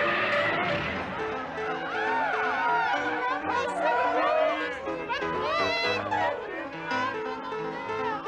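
Crowd of fans at a concert, a dense, continuous wash of overlapping voices, shouts and high whoops close around, steady and loud throughout.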